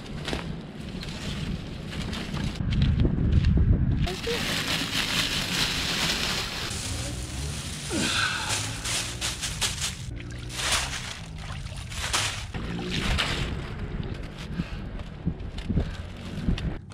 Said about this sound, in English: Now the weather's not too bad today, it's just the wind.